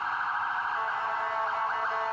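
An ambulance siren wails steadily on a city street, a continuous high tone holding at moderate distance with no talk.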